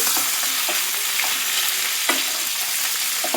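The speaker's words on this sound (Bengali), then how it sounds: "সবজিগুলো দিয়ে ভালো করে নাড়াতে থাকবো" Already-fried vegetables for shukto hiss loudly in a pan while being stirred, making a dense, close, continuous sizzle with faint scraping strokes throughout.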